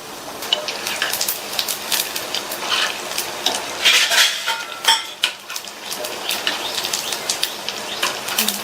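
Bonda-style snacks deep-frying in oil and stirred until golden, a bright crackling bubble of oil with clinks and scrapes of a metal ladle against the pan, close and fairly loud.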